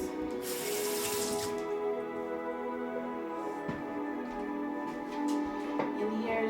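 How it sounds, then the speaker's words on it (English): Water from a sink tap runs steadily over a knife being rinsed while melt-and-pour soap is cut, a continuous close splashing stream with faint clinks in a kitchen-like room. "I'm gonna give my knife a little rinse."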